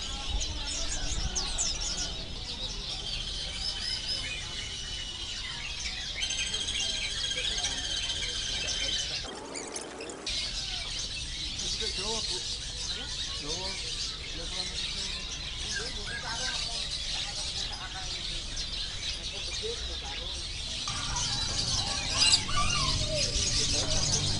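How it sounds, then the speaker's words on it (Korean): Many caged birds at an animal and plant market in Yogyakarta chirp, squeal and coo in a busy, layered chorus over a steady crowd murmur that lasts throughout. "꽤 독특한 많은 새들을 볼 수가 있습니다"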